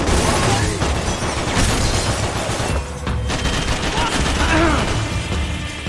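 Gunfire in the video game Max Payne 3 crackles in dense, continuous bursts with booming impacts throughout, while voices shout in Portuguese over the shooting.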